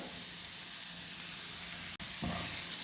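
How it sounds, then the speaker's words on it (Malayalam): Chopped onions sprinkled with salt sizzle steadily in a hot pan, a close, even hiss broken by one brief click near the end, with no voices. "ആ രണ്ട് സബോളയും നമുക്കൊന്ന് പാനിലേക്ക് ഇട്ട് കൊടുക്കാം"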